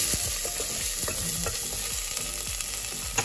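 Cumin, garlic and onion frying in a pan while being stirred: a steady close sizzle with repeated scraping strokes of a spoon, no voices.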